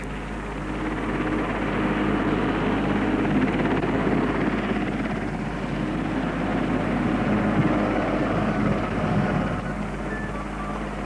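A helicopter hovers about 200 feet above a chapel while lowering a new spire on slings, its rotor and engine making a steady, loud, throbbing drone that holds throughout.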